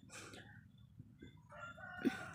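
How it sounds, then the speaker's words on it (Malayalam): A distant rooster crows faintly at midday, a drawn-out call rising and falling, with quiet background noise and a soft cluck near the end. "ഉച്ച നേരത്ത് നല്ല കൂവലാണ്"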